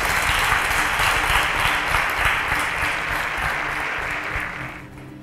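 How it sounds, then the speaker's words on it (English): A studio audience applauds as contestants on a science innovation competition show leave the stage, with steady, full clapping that holds for about five seconds, then tapers off. "A round of applause for them as they exit the stage."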